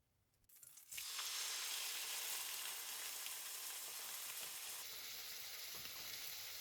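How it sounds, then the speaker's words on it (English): Buffalo steak dropped into a hot pan, a short quiet moment followed by a sudden loud, steady sizzle of searing that stays constant and close. "Now it's time to add your steak to the pan. Drop it in and don't touch it for 2 minutes."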